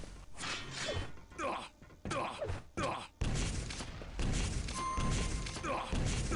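A rocket explosion in a Quake match, a loud blast that opens into a sustained roaring burst amid rapid in-game weapon fire, with a commentator talking over the action.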